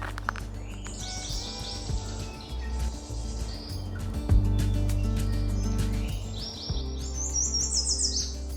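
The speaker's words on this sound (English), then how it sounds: "Just listen to all the sounds calling around me." Yellow warblers and a Bewick's wren sing and chirp from the trees in Oregon, bright warbling phrases overlapping at moderate distance over a low steady background rumble.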